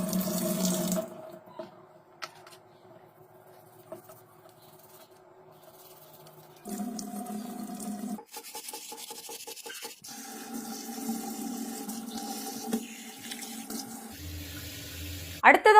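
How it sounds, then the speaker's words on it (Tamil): Tap water runs in bursts as a broken mixer grinder jar part is washed and rubbed clean under the faucet, with pauses and clattering handling noises, close up. "அதை கழுவி சுத்தம் பண்ணிடலாம்."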